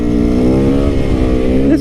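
A motorcycle engine drones steadily and loudly close by, holding a strong harmonic tone with a slight rise near the end, while a voice talks over it.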